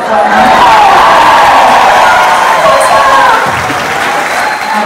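A large gala audience applauds loudly, with cheers and whoops mixed into the dense clapping that holds steady before easing slightly.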